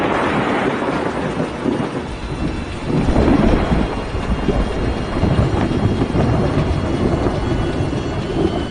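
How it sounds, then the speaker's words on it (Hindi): Heavy rain pours down with rolling thunder during Super Cyclone Amphan in West Bengal, where lightning strikes a coconut tree; a dense, loud, continuous roar with deep rumbling swells. "तेज बारिश के साथ बिजली कड़की और नारियल के एक पेड़ पर जा गिरी।"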